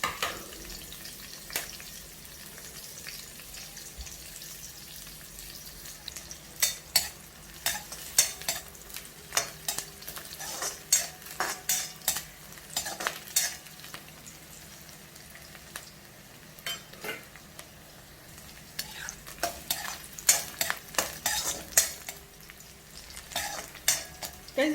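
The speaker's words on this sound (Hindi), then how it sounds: "हम इसमें प्याज डालेंगे और एजेस सिकुड़ जाए ऐसा भुनेंगे" Sliced onions sautéing in a pan for tarota sabji, a soft continuous sizzle broken by frequent clinks and scrapes of a spoon stirring against the metal.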